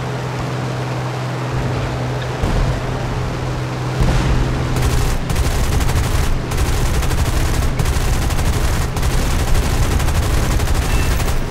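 Sustained machine gun fire from a P-36C Hawk fighter in War Thunder, long continuous rattling bursts over a steady engine drone, loud and close.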